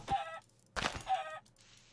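A chicken in the Minecraft video game squawks as it is struck, two short clucking hurt sounds about three quarters of a second apart, each paired with a soft hit thud, clear and isolated.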